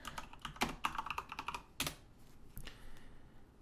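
Clicky keystrokes on a computer keyboard as a command is entered on a Commodore-style machine, fast close taps with short gaps and a few louder strikes, heard alone.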